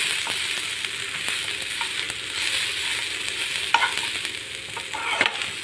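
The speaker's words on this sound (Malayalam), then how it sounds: "അതും കൂടി ഇട്ടിട്ട് നന്നായിട്ടൊന്ന് വഴറ്റി വെക്കും." Coriander leaves and curry leaves sauté with a small piece of tamarind in a pan for a chammanthi, giving a steady, close hiss of frying with light stirring scrapes and a couple of sharper clinks near the end.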